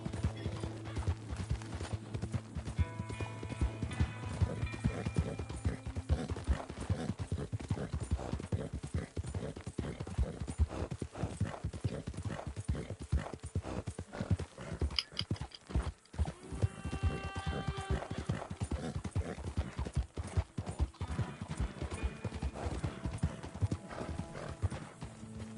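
Horse hooves clip-clop steadily in a Red Dead Redemption ride, a continuous rhythmic trot over faint game music and ambience, with a brief whinny partway through.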